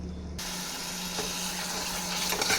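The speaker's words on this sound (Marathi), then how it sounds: "आणि हे छान थोडंसं 5 मिनिटं मसाला शिजवून घेऊयात." Masala spices for chole masala cook in a pan. A strong, steady sizzle and bubbling hiss starts abruptly and carries on loud and close, with no talking.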